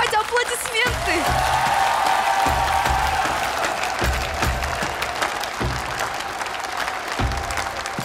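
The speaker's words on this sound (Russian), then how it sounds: "Давайте аплодисменты!" Applause from a talent show audience fills the room at full volume, dense continuous clapping sustained for several seconds with a bright crowd wash and no break.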